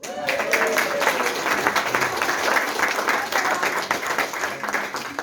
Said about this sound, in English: let's just have another round of applause for Hannah and Calvin